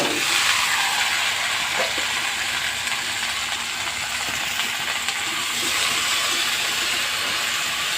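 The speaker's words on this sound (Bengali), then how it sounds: "হালকা করে ভেজে নিয়েছি, এবার সবজিগুলো সব দিয়ে দেবো।" Chopped mixed vegetables sizzle steadily in a hot pan after grated coconut has been lightly fried, giving a loud, continuous hissing sizzle with no talk over it.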